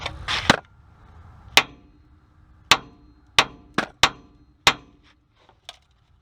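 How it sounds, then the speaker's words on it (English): A hammer strikes the tie rod end on a Ford F150 steering linkage, seven sharp metallic blows spaced irregularly after a brief clatter, loud and close, with no talk. "Sometimes I can just give it a smack right here and pop it out."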